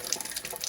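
Water running from a tap through a filter, a brief steady hiss and splash close by.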